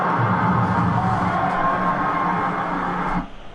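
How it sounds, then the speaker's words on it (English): Sustained crowd roar from a football video game plays loudly and evenly, then cuts off abruptly near the end. "Do you guys like the other crowd noise better?"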